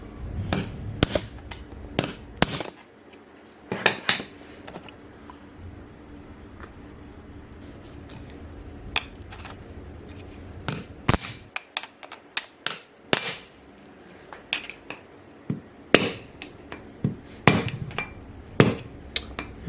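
Repeated sharp metallic hammer blows on a screwdriver driving a pin into a front-wheel-drive gearbox, struck in uneven bursts of quick hits with short pauses between, close and alone.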